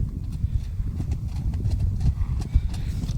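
A mare led back along the ground, her hooves clip-clopping in a steady, fairly close rhythm of repeated dull knocks with a faint murmur of voices in the background.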